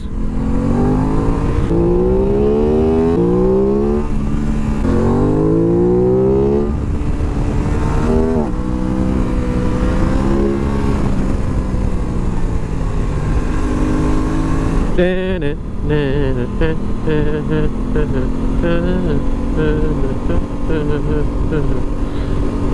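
Aprilia RS 660 sport motorcycle descending a mountain road, its engine note rising and falling through gear changes and throttle blips, loud and close throughout with wind rush behind it.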